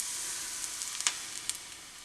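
Vegan pancake batter cooks quietly in a pan with a soft, faint sizzle, broken by a few small crackles and pops; no one speaks.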